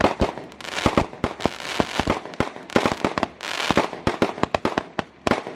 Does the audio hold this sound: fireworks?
yes